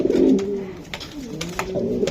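Racer pigeons cooing close by in a loft, several soft rolling coos overlapping in a steady murmur with no talk.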